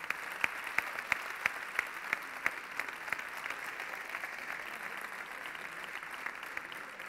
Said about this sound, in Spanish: fuerte esa ovación para ellos